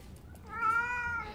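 A cat meows loudly along to a sung tune, one drawn-out harmonic meow close to the microphone, with faint music underneath.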